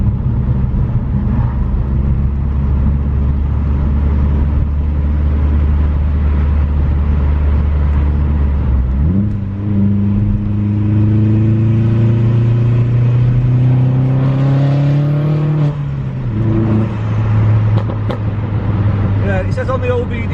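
A turbocharged car accelerating on a wet road, a low steady drone from inside the cabin that steps up and climbs through rising gears before settling, loud and continuous.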